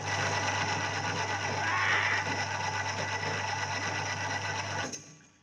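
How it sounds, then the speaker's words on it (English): A homemade apple crushing machine for cider making runs with a steady, loud motorized whir and rattle, close and continuous for about five seconds before it cuts off abruptly near the end. "homemade apple crushing machine. We just throw the apples in there and turn this on."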